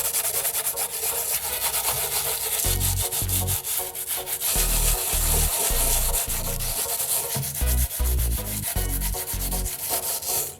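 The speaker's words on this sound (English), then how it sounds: "sanded firmly and evenly across the coated surface" Sandpaper rubbing firmly back and forth across an oxidized plastic headlight lens, a steady gritty scraping with rhythmic strokes that pulse and pause, close and loud throughout.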